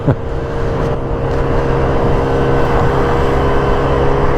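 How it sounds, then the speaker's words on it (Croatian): A Sym Symphony 50 scooter with a 50cc engine runs at full throttle up the incline of Branko's Bridge in Belgrade. A loud, close, steady engine drone holds an even pitch throughout, with no speech. "ovo je inače sad pun gas, tako da na ovom usponu na Brankovom mostu nije baš"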